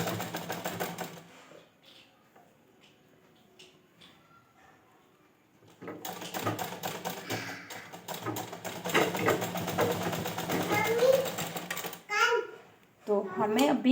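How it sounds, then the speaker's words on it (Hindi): A sewing machine stitches a Rajputi poshak ghagra with a magji border: a short burst, a quiet pause, then a steady whirring run of about six seconds, followed by someone speaking. "और फिर हमें वापस से सिलाई लेनी है"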